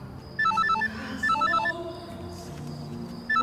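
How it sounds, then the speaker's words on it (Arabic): A telephone ringtone in an Egyptian thriller film plays a quick repeating electronic melody in three bursts, over a low background murmur. "مين اللي على التليفون؟"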